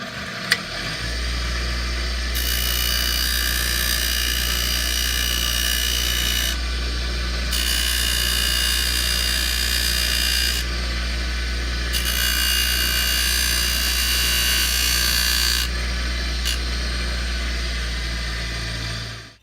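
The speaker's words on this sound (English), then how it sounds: "I do like to use this grinding wheel to take off the edges of my frets." A grinding wheel smoothing the metal fret ends on a cigar box guitar: a constant low motor hum under bursts of harsh, close grinding and rasping that start and stop several times, with no talk.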